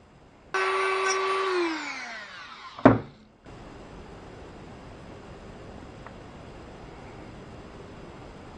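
A tool enlarges the hole in a Grado SR80 headphone socket with a brief, loud whirring grind that winds down, then a sharp knock and a quiet hiss, with no talk.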